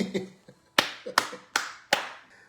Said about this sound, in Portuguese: Palmas, né? Palmas para mim.